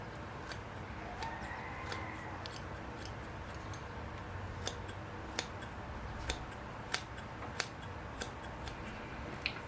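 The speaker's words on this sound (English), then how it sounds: "I'm also trimming all the moss short underneath the trees" Small scissors snipping moss short beneath bonsai show trees, faint sharp clicks spaced irregularly and growing more frequent, over a soft steady background with no talking.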